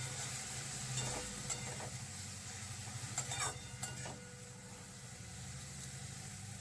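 Greens salted and spiced with turmeric are stirred in a frying pan over a steady sizzle, with bursts of scraping and light clatter in the middle, close up under a constant low hum.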